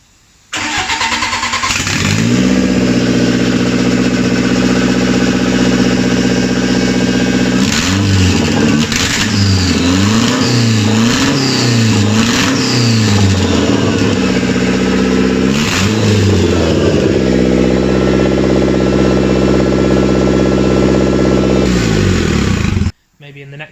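A BMW E36 drift car engine cranks and catches, idles loudly, then revs up and down several times before settling back to idle and cutting off.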